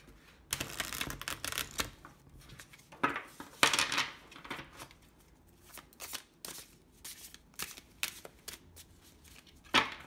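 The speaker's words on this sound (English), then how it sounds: "And I'm just going to do another quick shuffle." A tarot deck gets a quick hand shuffle, with crisp bursts of cards riffling and slapping together in uneven rapid runs, close to the microphone and without talking.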